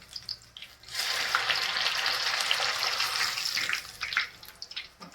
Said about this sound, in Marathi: आपली मिरची छान तळून झाली